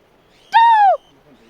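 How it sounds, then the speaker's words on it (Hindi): A parrot gives a single short squawk, clear and fairly close, against an otherwise quiet outdoor background. "तोते की आवाज़।"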